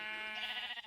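A sheep in a block-building video game gives a single short, wavering bleat, moderately loud and on its own.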